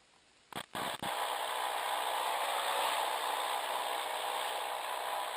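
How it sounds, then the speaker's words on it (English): A Cessna 172 piston engine holds a steady, even drone during the pre-flight run-up at 1700 rpm, after a few brief clunks at the start. "Mixture rich. Engine running."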